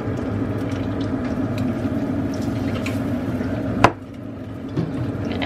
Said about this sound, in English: I'm gonna fry them in the same pan that the sausage was in